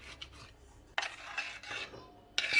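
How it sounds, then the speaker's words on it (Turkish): A knife cutting sucuk sausage on a board while making homemade pizza: a few short, close, scraping chops in uneven bursts, with no talk. "Biraz sucuk doğrayacağım."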